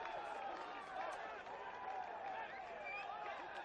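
Football supporters roar in a continuous crowd cheer at an NPL men's elimination final, Rockdale Illinden against Blacktown City, just after a Rockdale goal, with a dense wash of voices and scattered claps under a commentator's talk.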